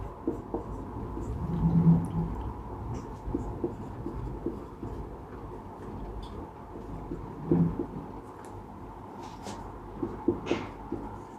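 A pen writing shorthand strokes on paper, soft continuous scratching and a few short strokes, close but faint over a low room hum with no speech.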